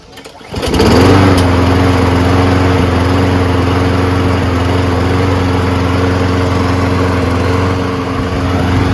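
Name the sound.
lawn mower engine running after winter storage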